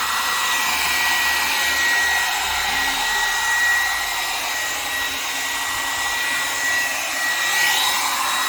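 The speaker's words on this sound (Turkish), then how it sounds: "Karaburun'daki saç kurutma makinesi de bu" A small Rax hair dryer blows with a steady, high-pitched whirring hiss, close up and constant, with no voices.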